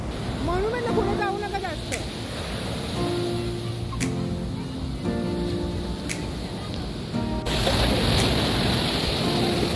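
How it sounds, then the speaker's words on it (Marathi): Sea waves at Candolim Beach in Goa wash in a broad, continuous surf roar, joined by wind buffeting and people's voices nearby, and swell louder near the end. "असाच एक हा समुद्र किनारा म्हणजे हा कॅन्डोलिन बीच."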